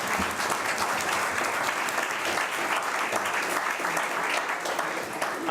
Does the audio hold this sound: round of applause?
yes